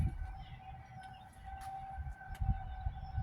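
A tornado siren during its monthly test sounds from a distance as a sustained wailing tone, steady and fairly faint over low rumbling outdoor background in light rain.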